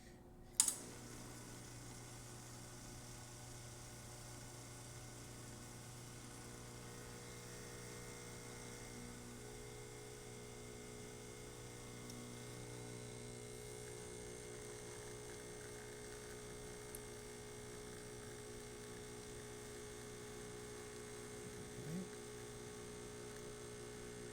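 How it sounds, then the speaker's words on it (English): A Lelit Mara X espresso machine, just repaired with a new heating element, pulls a shot: a click, then a steady low pump hum with a faint buzzing drone that continues evenly throughout. "And then I'm just going to do a shot."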